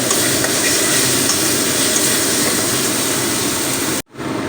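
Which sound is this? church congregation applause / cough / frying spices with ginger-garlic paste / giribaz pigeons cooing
frying spices with ginger-garlic paste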